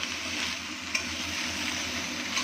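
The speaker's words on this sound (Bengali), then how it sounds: "এবার এটা ভালো করে কষাতে হবে।" A spiced mixture is stir-fried in a pan, giving a steady close sizzle with soft scraping of a spatula and one small clink near the start, with no talking.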